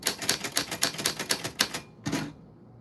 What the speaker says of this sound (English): that is how your name sounds on a typewriter.